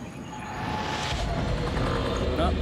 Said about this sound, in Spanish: Es un helicóptero, lo sé.